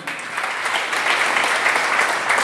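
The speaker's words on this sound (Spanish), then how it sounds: "Denle un aplauso a Jesús." A church congregation gives a sustained round of applause during a Spanish-language sermon. The clapping is dense and steady, and it stays fairly loud and even throughout with no one speaking over it.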